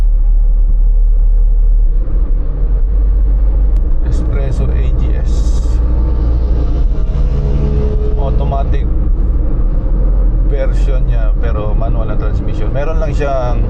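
A Suzuki S-Presso AGS car engine climbing uphill in low gear, a steady loud low rumble heard from inside the cabin throughout, with a person talking over it.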